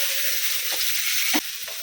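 Potatoes fry in a pan for chicken curry, giving a steady close sizzle with a few soft stirring scrapes and no talk.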